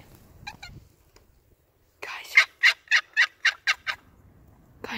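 Wild turkeys calling in the woods: a short early burst, then a close, loud series of about seven rhythmic gobbling or yelping notes, followed by quiet.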